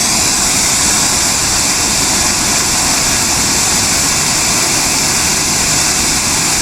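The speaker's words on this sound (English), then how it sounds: "I got a little tractor with a backhoe in there" A small tractor fitted with a backhoe runs steadily in a backyard, a loud, constant broadband engine roar with no break and no talking over it.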